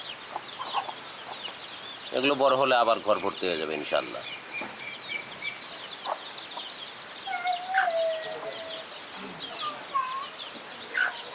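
Native village chickens and their chicks on a farm cluck and cheep, a burst of clucking followed by scattered chick peeps, with a person talking over them.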